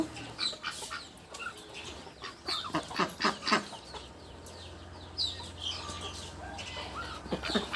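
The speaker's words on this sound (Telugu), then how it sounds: "మాకు బాతులు కోళ్ళు ఇలా ఉన్నాయి." Ducks and chickens in a village yard at morning feeding time, with scattered clucks and squawks at close to moderate distance, some overlapping in short bursts over a low background hum, and no speech.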